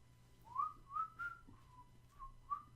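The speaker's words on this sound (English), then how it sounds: "It's a whistle song." Someone whistles a theme song, a short tune of about five rising and sliding notes, clear and close against a quiet background.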